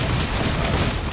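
Mech gunfire in the video game Mecha BREAK, from a Pinaka fighting near a Welkin. A dense, continuous burst of rapid shots and rumble, loud and unbroken, with no voices.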